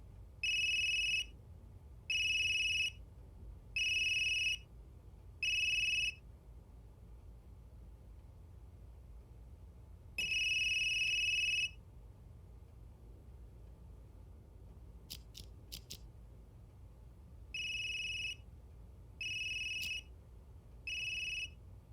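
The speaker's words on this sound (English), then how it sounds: "That geezer's phone is ringing." A phone rings in the video game Unheard: bright electronic ring bursts come in a steady run of four, then one long ring after a pause, then three more, over a quiet low hum with a few faint clicks.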